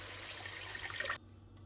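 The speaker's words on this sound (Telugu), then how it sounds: "ఇప్పుడు తగినన్ని వాటర్ పోసుకోవాలి" Water pours into a pot of oily mint and basmati rice pulao, a steady close rush of liquid that stops abruptly near the end, leaving quiet.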